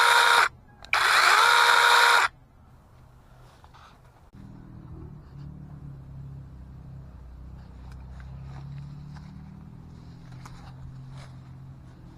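A cheap cordless battery pruning chainsaw cuts through green branches, two loud bursts of motor whine close by, the second longer, followed by a low steady rumble with faint ticks.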